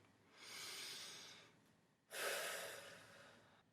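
Two slow, deep breaths drawn close to the listener, each a soft, airy rush of air rising and fading, with a short pause between them.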